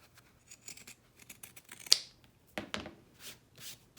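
Fabric scissors snip in a quick series of crisp cuts, notching and trimming the curved seam allowance of a sewn sling bag stiffened with Decovil Light interfacing, close and fairly quiet with no talking.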